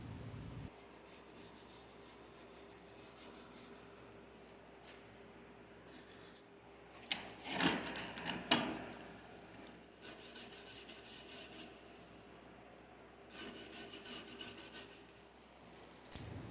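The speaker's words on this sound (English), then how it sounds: "Dip the wire brush in the solution and apply it to the clamp, being careful to spend extra time in areas with excess glue." A wire brush scrubs glue-removal solution onto a metal clamp in several bursts of close, raspy bristle strokes separated by quiet pauses and a few softer handling scrapes.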